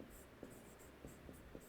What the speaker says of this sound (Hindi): मैं एक बार फिर भी आपके पास लिख देता हूँ